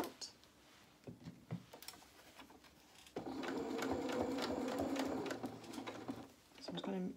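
A sewing machine stitches fabric for small boxer shorts, a fast mechanical whirr running in short bursts with one longer steady run midway, while a person talks quietly around it.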